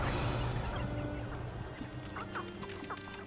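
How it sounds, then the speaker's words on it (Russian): Chickens cluck in a night-time video game scene, a few soft, scattered clucks rising faintly over a low ambient hum and quiet background noise. "Курочки."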